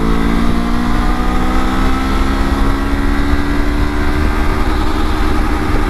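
Honda CB500X motorcycle engine pulling in third gear, a loud, steady droning roar with rising harmonic tones and wind rush, heard close throughout without speech.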